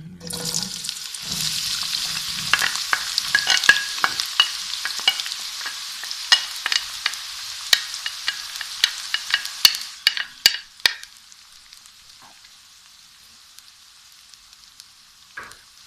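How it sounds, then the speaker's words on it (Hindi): Chopped onions hit hot oil for khageena with a loud, crackling sizzle and scattered sharp pops and stirring scrapes, the hiss fading to faint sporadic crackles toward the end. "यहाँ ऑयल गर्म हो गया है, तो अब हम इसमें डाल देते हैं प्याज"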